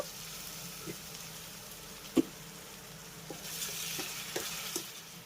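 Onions frying in a pan with garlic-ginger paste and a splash of water, a soft steady sizzle with a few clinks of the stirring spoon, close and alone.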